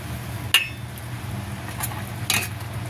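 Unripe jackfruit for a salad simmers at a rolling boil in a cooking pot, with a steady low bubbling and a couple of faint metallic clinks from the pot or a utensil.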